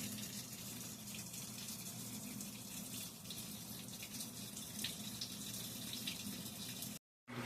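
A Whirlpool washing machine fills with water, a steady close rushing gush that runs continuously with a brief dropout near the end.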